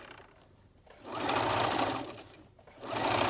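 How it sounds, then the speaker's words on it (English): A sewing machine stitches around the edge of a minky fabric cowl, its motor whirring steadily with a brief slowdown in the middle before running up to full speed again, close and alone. "Keep sewing all the way around."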